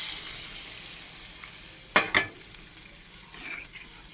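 Water hits a pan of sizzling fish and potato curry, making two sharp, loud hissing bursts over a steady, fainter frying sizzle that then settles back down.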